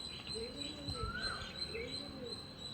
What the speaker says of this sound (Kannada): ಪಾರಿವಾಳ ನೋಡಿ ಹೇಗೆ ಸೌಂಡ್ ಮಾಡ್ತಾಯಿದ್ದೆ.